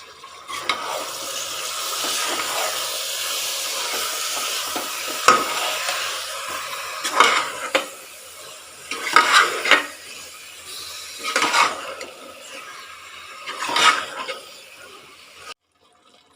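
Marinated chicken is stirred into masala in a pan, with loud scraping strokes of a spoon over a continuous sizzle of hot oil, coming in uneven bursts.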